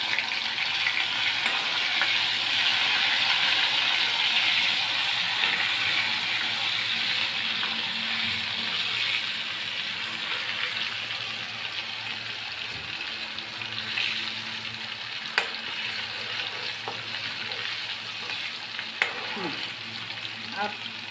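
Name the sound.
garlic and ginger paste frying in a pan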